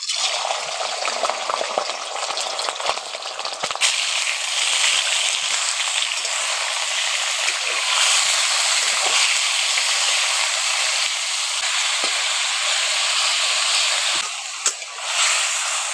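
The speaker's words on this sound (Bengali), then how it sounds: "এখন তেলটা গরম হয়ে গেছে, ওর মধ্যে এখন চিকেনগুলো দিয়ে দিচ্ছি।" Chicken pieces fry in hot oil in a wok, a loud continuous sizzle held for a long stretch, with brief clattering bursts of stirring near the start and end and no talk.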